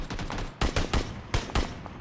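Gunfire in the battle royale game PUBG, several loud close bursts of rapid shots in quick succession over continuous background noise.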